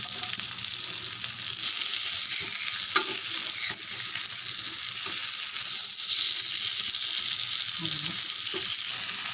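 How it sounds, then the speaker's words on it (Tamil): Fish frying in oil with curry leaves in a pan, a steady close crackling sizzle with a few stirring and scraping knocks, alone without speech. "மீன் நல்லா பொரிஞ்சிச்சு"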